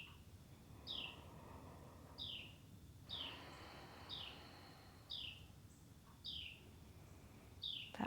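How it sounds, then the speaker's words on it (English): A songbird outdoors gives short, bright descending chirps, about one every second or so, repeating steadily over a low background hum, moderately near and clear. "That bird is really talking to us."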